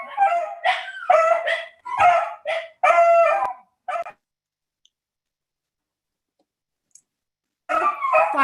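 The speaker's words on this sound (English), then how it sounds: "Sorry, my dogs are going crazy." Several dogs bark excitedly in a home during a city council meeting, a rapid burst of loud, close yaps and barks for about four seconds, then silence before a second round of barking starts.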